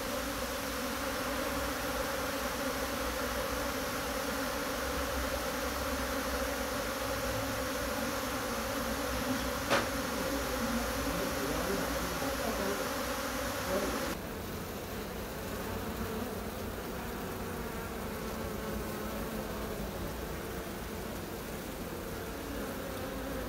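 A swarm of wild honeybees kept in the city buzzes steadily as the bees return to their hive, a dense, continuous insect hum that holds for over twenty seconds and drops slightly in level partway through, with no voices.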